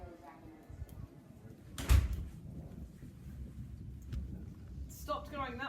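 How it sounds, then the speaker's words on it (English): A door bumps shut close by, a single thud standing out from a steady background of thunderstorm rumble and rain, with muffled voices talking around it. "Door behind you."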